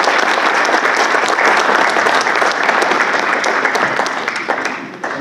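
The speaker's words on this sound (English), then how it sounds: "Would you join me in clapping for them?" An audience at a food policy panel event claps for the panelists, a loud, dense, sustained round of applause that tapers slightly toward the end, with no talking over it.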